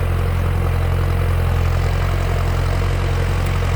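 A Massey Ferguson MF5710 tractor with an air-conditioned cab idles in a sugarcane field, its low, steady engine rumble holding even and close throughout with no voices.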